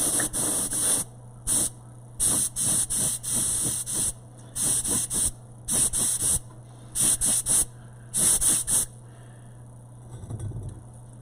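Primer sprays onto a substrate in repeated short bursts of loud, close hissing, each a second or so long with brief pauses between them, over a low steady background hum.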